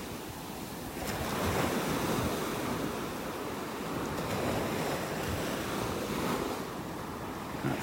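Gulf of Mexico waves wash onto a beach in North Naples, Florida in soft, repeated swells, with a steady surf hiss and some wind buffeting the microphone, and no voices heard.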